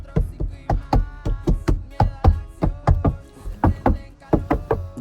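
Knuckles rap again and again on an interior panel of a 2023 Ford F150 truck lined with sound-deadening mat, making dull, close thuds in uneven bursts of two and three.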